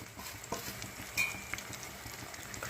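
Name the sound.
chapati pieces frying and being stirred in oil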